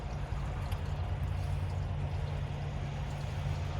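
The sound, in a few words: RV gray water tank dumping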